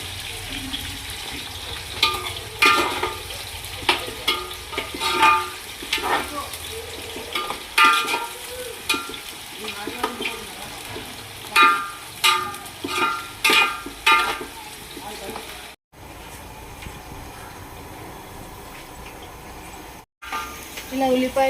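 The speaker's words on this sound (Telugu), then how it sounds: "కట్ చేసి పెట్టుకున్న పచ్చిమిరపకాయలు, ఉల్లిపాయ ముక్కలు వేసేసుకోండి. ఇంకా వచ్చేదాకా ఫ్రై చేసుకోవాలండి." Chopped onions and green chillies sizzle steadily in hot oil in a handi for mutton curry, with intermittent stirring clatter and scraping against the pot; close and moderately loud, with two brief silent gaps near the end.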